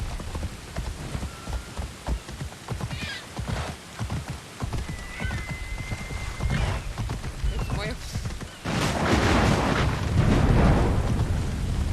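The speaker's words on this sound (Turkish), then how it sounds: "Abla yağmur yağıyor." Steady rain pours down in the video game Assassin's Creed Odyssey, growing louder and denser in the last few seconds, with horse hooves clip-clopping and a whinny earlier on.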